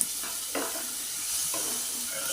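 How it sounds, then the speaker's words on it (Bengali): Garlic and ginger paste hitting hot oil in a pan with fried onions, a brief hissing sizzle with a couple of soft stirring scrapes, quiet and without talk. "রসুন বাটা আদা বাটা দিয়ে দিলাম"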